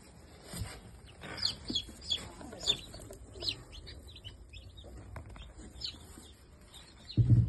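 Newly hatching chicks inside an egg incubator peep in quick, high, repeated chirps close by, over a low machine hum, ending with a louder thump.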